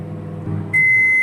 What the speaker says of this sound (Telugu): మైక్రోవేవ్ 900 వాట్స్ 5 నుంచి 8 మినిట్స్ టైం అయితే మనం పెట్టుకోవచ్చు.